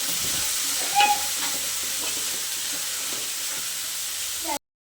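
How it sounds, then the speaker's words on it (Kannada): Radish pieces frying in oil while being mixed for radish chutney, giving a steady close hiss and sizzle with a brief stirring scrape near the start, then an abrupt stop. "ಈಗ ಮೂಲಂಗಿ ಸೇರಿಸ್ಕೊತಾ ಇದ್ದೀನಿ. ಇದು ಆಯಿಲಲ್ಲಿ ಚೆನ್ನಾಗಿ ಫ್ರೈ ಆಗಬೇಕು."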